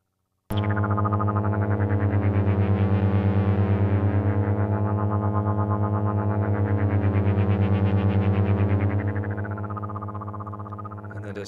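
A Behringer Neutron synthesizer holds one sustained, loud note whose LFO-modulated filter sweeps up and back down in slow waves, with a fast pulsing wobble throughout and a slight fade near the end.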